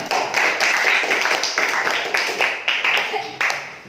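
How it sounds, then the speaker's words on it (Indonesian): A class of students claps for a classmate in an Indonesian school lesson, a quick run of scattered, uneven claps close by with a few louder slaps and some voices mixed in. "tepuk tangan untuk kawannya"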